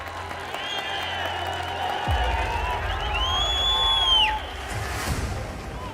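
Audience applause and crowd noise at a public speech, a steady broadband wash of clapping lasting throughout with faint voices and tones mixed in.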